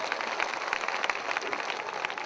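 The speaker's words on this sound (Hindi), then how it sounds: "तालियां बजाओ दोस्तों" An audience at a Hindi poetry gathering claps, a dense and steady burst of applause that fills the hall without pause.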